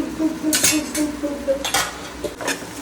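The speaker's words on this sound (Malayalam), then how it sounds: "അത് നന്നായിട്ട് ഇളക്കി കൊടുക്കുക" A spoon stirs ginger garlic paste into fried onions in a pan, giving several sharp metallic clinks and scrapes at an irregular pace over a quiet sizzle.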